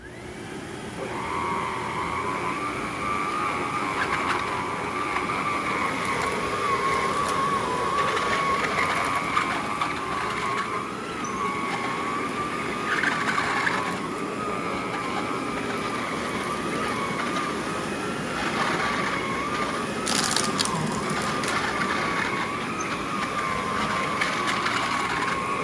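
A ProTeam 1500/1200 vacuum cleaner runs continuously with a steady whining motor drone and airflow hiss, holding a constant loud level throughout.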